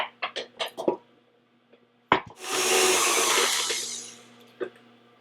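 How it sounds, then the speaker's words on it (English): Electric paddle mixer creaming two packages of cream cheese with butter: a steady, loud whirring drone for about two seconds that then fades out, preceded by a few short knocks and clatters. "I'm gonna let that cream with my paddle mixer"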